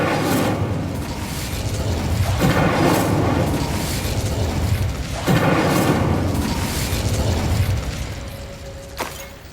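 Three whooshing, roaring fire bursts sound one after another in Hogwarts Legacy as the Incendio spell is cast, each a loud rumbling swell that fades over about two seconds.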